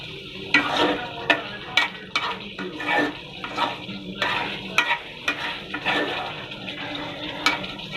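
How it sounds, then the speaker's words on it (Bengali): Raw jackfruit pieces are stir-fried in a pan with beef: a spatula scrapes and knocks against the pan in a steady rhythm over a continuous sizzle, close and alone with no voices. "এখন শুধু খালি আমি কাঁঠালটা দিয়ে কষাবো"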